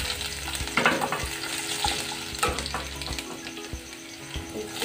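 Garlic drops into hot oil with hing for a dal tadka over lowered heat and fries with a close, crackling sizzle. A few stirring scrapes and clinks sound throughout, with no talking.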